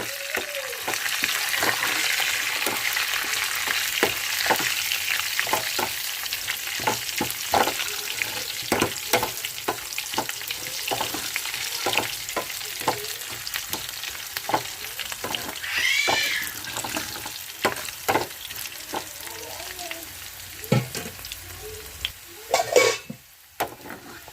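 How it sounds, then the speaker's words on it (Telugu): Garlic, curry leaves, mustard seeds, fenugreek and cumin sizzling in hot oil for an Andhra sambar tempering, a steady close crackle with many sharp pops and spits, a few higher squeaky tones midway. "పోపు పెట్టుకుందాం ఇప్పుడు ఆయిల్ వేసాను"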